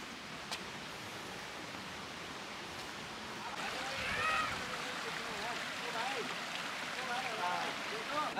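Flowing water from a waterfall in Kerala rushes as a steady broadband wash, growing louder and fuller midway through, with faint rustling on top.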